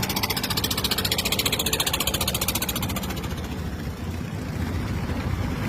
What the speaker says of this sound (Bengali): এই যে নৌকা চলতেছে